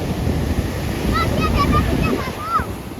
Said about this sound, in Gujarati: તો ફેમિલી આવી રીતના મોજા છે દરિયાની અંદર.